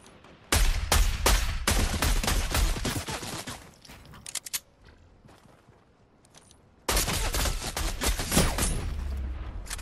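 Automatic sniper rifle in a video game firing rapid bursts of loud sharp shots, one dense stretch early, a quieter pause with scattered sounds, then another sustained barrage near the end.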